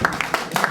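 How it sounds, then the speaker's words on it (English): Audience applause and clapping for comedian Justin Hall at a comedy show, several bursts of hands over a brief moment, moderately loud. "How about a big round of applause for Justin Hall and Citizen Cloud Initiative"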